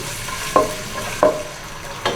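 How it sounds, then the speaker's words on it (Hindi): Beef frying in oil with ginger garlic paste for nihari: a steady close sizzle with three soft scraping stirs of a spoon in the pan at regular intervals, no talking. "फिर मैं इसमें गोश्त डालकर भूनती हूँ।"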